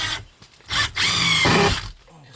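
Power drill driving screws into OSB panels on a tiny house loft wall, two short bursts of whirring separated by a brief pause, close up and alone.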